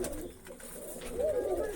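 Soft pigeon coos rise over a steady background hum, a low warbling call near the end, with no voices.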